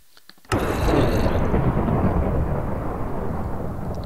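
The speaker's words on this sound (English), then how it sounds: "That lightning is just killing the audio here" A sudden loud thunderclap from lightning in modded Minecraft cracks sharply, then rolls into a long, heavy rumble that stays loud and dense to the end.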